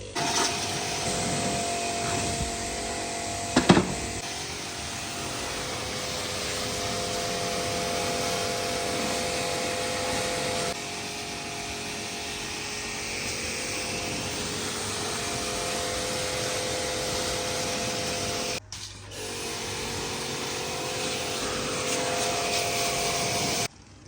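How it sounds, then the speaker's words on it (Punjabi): A washer sprays and cleans dirty indoor parts from a Lloyd hot-and-cool air conditioner during a service. Its motor gives a loud, steady whirring drone throughout, briefly dipping near the end, with no voices. "ਹੁਣ ਇਹਨਾਂ ਨੂੰ ਵਾਸ਼ਰ ਲਾ ਦਿੱਤਾ ਤੇ ਚੰਗੀ ਤਰ੍ਹਾਂ ਦੀ ਸਰਵਿਸ ਕਰਦਾ"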